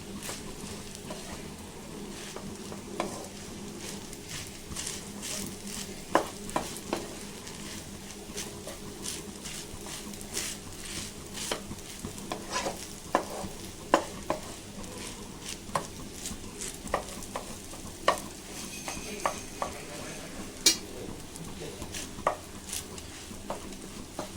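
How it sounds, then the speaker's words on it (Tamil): Sago upma tossed with grated coconut is stirred in a pan, a soft background hiss broken by frequent light taps and scrapes of a spoon against the metal, fairly quiet and without speech. "தேங்காய் பூ போட்டு கிண்டி விட்டு ஒரு 2 நிமிஷத்தில் இறக்கிடலாம்"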